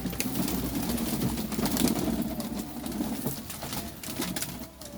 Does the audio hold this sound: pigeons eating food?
yes